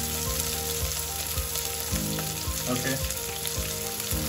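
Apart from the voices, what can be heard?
chili sizzling while frying biryani masala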